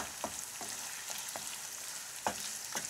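Minced meat sizzles steadily in a hot pan, with several soft scraping stirs of a spatula at irregular intervals.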